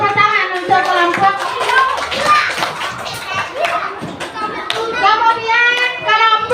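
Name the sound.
applause for the group in a classroom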